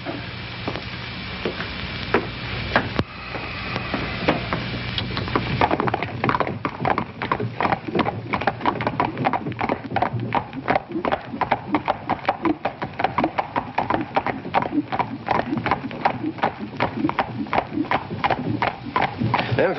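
Many horses' hooves clip-clop steadily on a hard road in a film scene, a dense rhythmic clatter that swells after a few seconds and keeps going, with faint voices underneath.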